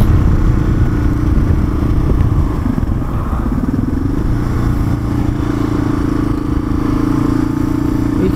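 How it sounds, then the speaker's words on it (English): A motorcycle engine runs loud and close, its pitch rising and falling as the rider eases off the throttle, pulls the clutch and shifts up through the gears, with a steady mechanical rumble throughout. "You can see the timing and hear the timing as I off the throttle, on the clutch, and I upshift"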